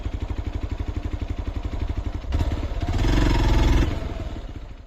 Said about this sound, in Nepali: फेरि मेरो बाइक स्टार्ट भइसक्यो